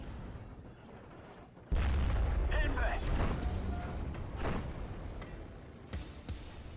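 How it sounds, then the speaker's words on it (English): Artillery shells landing in the WWII strategy game Steel Division: Normandy 44, heavy booming impacts and rumbling bursts that continue as a dense battle din, with sharp cracks spaced through the barrage. "as the first artillery rounds landed by my Pak-40"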